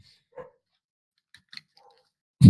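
A dog barking indoors, picked up faintly in a few short scattered yips before one loud, sudden close bark at the very end, with near silence in between.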